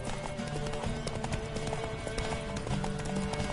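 Rhythmic horse hooves clip-clop steadily through a video game scene, mixed with dense game music and effects, fairly loud and continuous.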